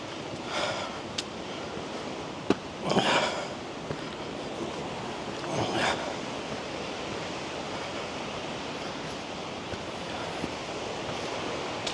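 Steall Waterfall in the Scottish Highlands roars steadily as a large volume of water cascades down, a broad continuous rush heard close up, with a few brief gusts or surges of wind noise.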